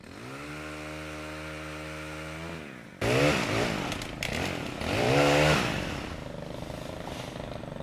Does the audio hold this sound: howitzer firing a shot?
no